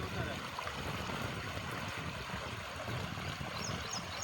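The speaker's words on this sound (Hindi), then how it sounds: "पानी देखो रोड पर निकल आया है" Flood water gushes from a breached village pond onto a road, a steady broadband rush of flowing water that runs unbroken throughout, fairly faint and heard alone.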